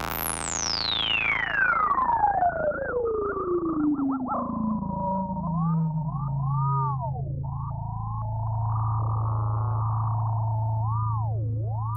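A ring modulator in the Frostbite 2 spectral freeze plugin, its frequency swept by an LFO. A loud sine-like tone dives steeply, then warbles and wobbles in pitch over a sustained low drone, metallic and continuous with no speech.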